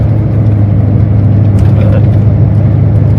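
A 2011 King Ranch truck with a 6.0 engine rumbles steadily up close, a loud, constant low engine note that holds throughout with no clear revving.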